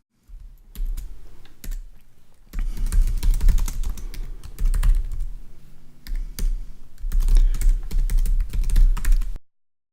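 Code typed on a computer keyboard in a Jupyter notebook, a close, busy run of rapid keystrokes in bursts with short pauses, loud and without speech.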